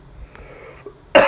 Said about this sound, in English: Man, it always makes me cough.